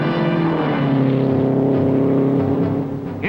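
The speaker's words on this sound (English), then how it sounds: "the 2 hottest cars on the track get up to speed" 1960 NASCAR Grand National race cars roar down the track at speed, a loud sustained engine drone with steady harmonic tones that holds throughout and slightly fades toward the end.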